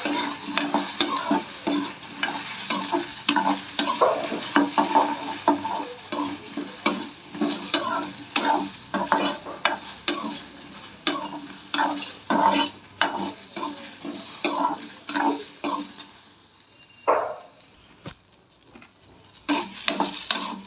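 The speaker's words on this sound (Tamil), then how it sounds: "வெண்டிக்காய் வளவளப்பு இல்லாமல் இருக்கிறதுக்கு நம்ம வதக்கி எடுத்துக்குவோம்" Okra is sautéed and stirred in a pan. A utensil scrapes and clinks against the pan in a quick, repeated rhythm over a light sizzle, pauses briefly near the end, then resumes.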